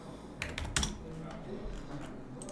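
Typing on a computer keyboard while setting up a drawing sheet layout, a few quick clustered keystrokes early on, then a quieter stretch with a faint voice in the background.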